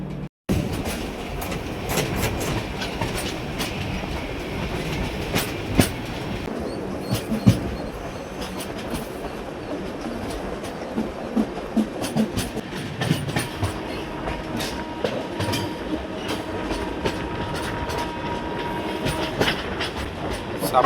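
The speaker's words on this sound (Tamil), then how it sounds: "ட்ரெயின் கிளம்பிடுச்சு" Uday Express passenger train running on rails near Coimbatore, a steady close rumble with rapid clickety-clack wheel beats and occasional sharp knocks continuing throughout, with no talk.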